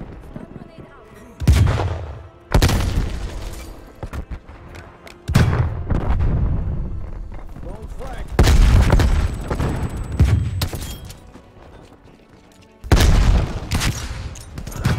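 Call of Duty: Black Ops Cold War combat brings repeated loud grenade blasts with deep booming tails and scattered gunfire. The bursts come in heavy clusters separated by brief lulls.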